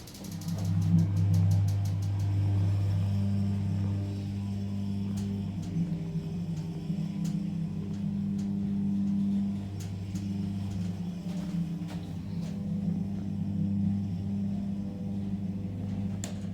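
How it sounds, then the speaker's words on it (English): Motor of a 1980s Westinghouse hydraulic elevator in a Bloomingdale's at King of Prussia Mall, rated 4,000 pounds, droning steadily for the whole stretch as a low, even hum with faint clicks and rattles above it. "Get one more listen to the motor and then end it zero."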